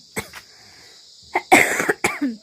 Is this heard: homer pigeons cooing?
no